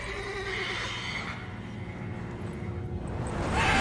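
A horse in The Witcher 3: Wild Hunt gives a long, shrill whinny that wavers and fades, followed by a low rumbling backdrop as the sound swells again at the end.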